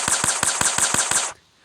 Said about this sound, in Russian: Давай я этого волка убью своим пистолетом, своим пушкой инопланетянин.